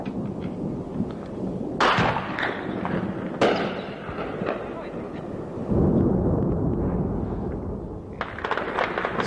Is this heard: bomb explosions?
yes